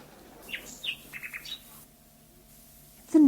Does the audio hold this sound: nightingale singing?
yes